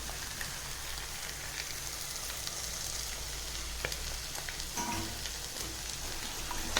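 Beaten eggs with yolks poured into a pan of cooking kodo millet, giving a steady close sizzle and crackle of frying with no talk.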